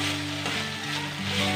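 Ginger and garlic sizzle steadily in hot oil in a pan, a close, continuous frying hiss with soft stirring, cooked in onion paste for a kucho chingri (small prawn) curry.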